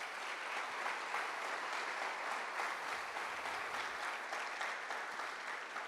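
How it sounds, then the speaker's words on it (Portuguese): Church congregation applauding in steady, dense clapping that holds at an even level for several seconds, with no voices over it. "Então dá um aplauso lindo para o Senhor."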